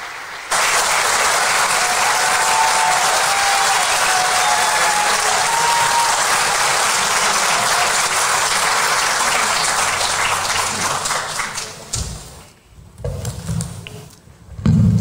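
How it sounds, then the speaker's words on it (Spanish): Warm, sustained applause from a crowd welcoming the mayor at a municipal public accounts ceremony in Vicuña, loud and dense for about twelve seconds before fading into a few scattered claps and room noise. "a quien recibimos con un caluroso aplauso"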